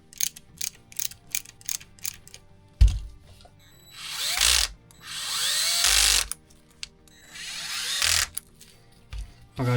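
A clutch screwdriver drives screws into a Tamiya Volvo FH16 750 tow truck model, opening with a run of short ratcheting clicks, then three longer whirring bursts of the motor, loud and close, with no talking.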